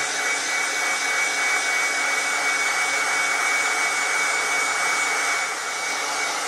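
A heat gun blows a steady, loud rush of hot air onto a circuit board held in a vise during a stepper driver IC replacement, the broad airflow roar continuous and close throughout.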